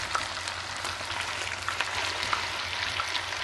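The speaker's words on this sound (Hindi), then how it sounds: "इसमें चिकन फ्राई करूँगी मैं" Chicken sizzling steadily in hot oil with ginger garlic paste for nahari, a continuous close hiss and crackle with no talking.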